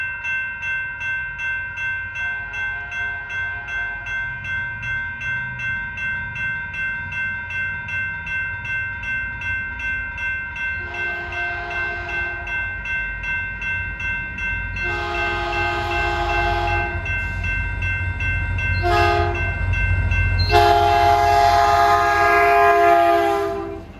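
A southbound Caltrain pulls into Burlingame station, its horn sounding in long sustained blasts that grow louder as it nears, with rumbling wheels and track noise building underneath and a final loud surge before it passes.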